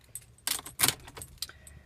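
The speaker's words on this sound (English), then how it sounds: "When I put the key in" Keys jangle and clatter as a key goes into the ignition slot of a BMW E39 540i, a few short metallic bursts close by with a quiet car interior around them.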